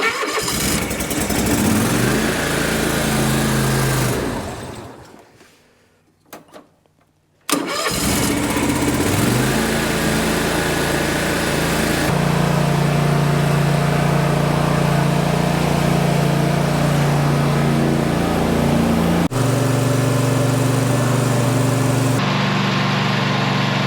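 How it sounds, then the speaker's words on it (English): A Toro TimeCutter riding lawn mower engine, jump-started with a jump pack, runs loud and close with a steady mid-pitched drone, drops out briefly after a few seconds, then restarts and keeps running alone. "So I went ahead and let the TIMECUTTER run for a little bit"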